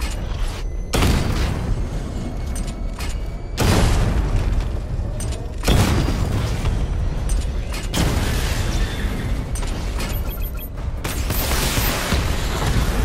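Barrage explosions from the Batman Arkham Knight video game: four loud, heavy booms with rumbling tails, spaced a couple of seconds apart, over a dense, continuous roar.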